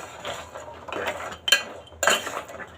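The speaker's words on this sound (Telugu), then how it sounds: "గవ్వలు వేసేసుకుని ఒక్కసారి కలిపేసుకుందాం మొత్తం." Wheat flour gavvalu stirred through thickening jaggery syrup in a pan, giving a few close, clinking scrapes of a utensil against the metal, loudest in two sharp strokes.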